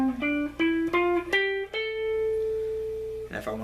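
Guitar climbs a diatonic scale pattern starting from the minor tonic, several single picked notes in quick succession ending on one long sustained tone, then a fresh attack at the end.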